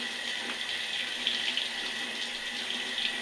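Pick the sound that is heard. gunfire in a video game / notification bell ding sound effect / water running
water running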